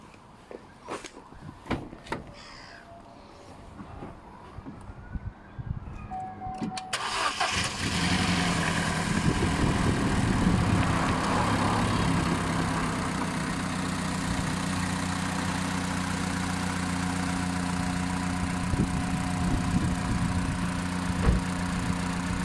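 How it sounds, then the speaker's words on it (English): A Vauxhall/Opel Astra J engine, top engine cover removed after fresh spark plugs and coil pack, cranks and fires after some clicks and handling noises, then settles into a steady, close, humming idle. "fire the car up and see whether it's running okay"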